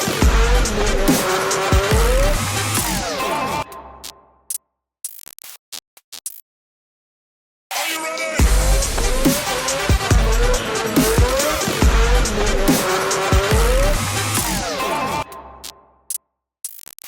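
Race cars scream past at a celebrity circuit race, engines roaring loud and close with tires squealing through corners, fading out to near silence before another loud pass with more tire squeal.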